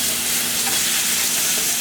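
Pork chops turned over in a hot pan, a loud, dense, continuous sizzle close up, with faint scraping as they are flipped.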